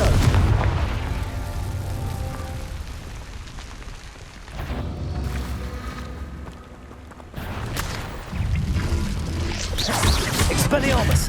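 Confringo blasting spell explosions in Hogwarts Legacy, several loud booming blasts and crashes in quick succession amid continuous game combat noise, with a voice briefly audible in between.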